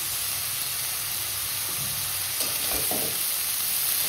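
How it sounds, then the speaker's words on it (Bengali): Shredded cabbage fries in a pan for an onion- and garlic-free vegetarian biryani, giving a steady, even sizzle throughout with a few soft stirring scrapes near the end. "ভালো করে বাঁধাকপি কুচিটা আমি ভেজে নেব"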